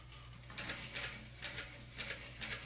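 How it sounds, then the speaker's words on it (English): Sewing machine stitching a fabric pouch right beside the piping, working slowly around curves, with a steady run of rhythmic mechanical bursts close by and a low constant motor hum underneath. "You don't want to sew over the piping, you just want to sew right next to it."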